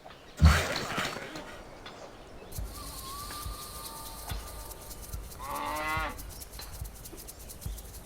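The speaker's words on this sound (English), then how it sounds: "Let's go there and get the cows." Cows low in the video game Civilization V, a distinct drawn-out moo near the middle, set against a soft ambient game soundscape with a faint bird chirp and a brief thump at the start.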